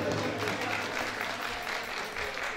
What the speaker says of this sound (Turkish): Alkışlar gelsin efendim.